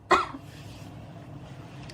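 A single short cough, close and sharp, followed by quiet room noise.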